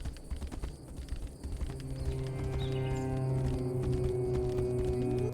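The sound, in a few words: horse hooves in a video game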